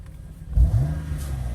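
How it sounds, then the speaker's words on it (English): A BMW M car with a DCT gearbox gives one sharp engine rev from a quiet idle, the deep burst swelling up close and then settling into a throaty, rumbling idle. "Just a wicked sounding car."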